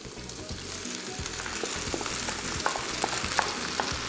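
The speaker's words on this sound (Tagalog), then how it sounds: "Mga 2 to 3 minutes yung pag-stir fry ko dito sa noodles." Wide noodles being stir-fried in a pan for beef chow fun: a continuous close sizzle with rhythmic scraping and tossing strokes, moderately quiet, no voices.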